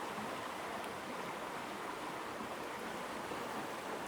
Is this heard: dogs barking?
no